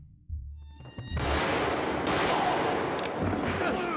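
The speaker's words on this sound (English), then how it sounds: "she just came out shooting" A burst of gunfire in a TV drama scene, an abrupt loud eruption of shots after a short quiet stretch with low voices, continuing as a dense clattering volley to the end.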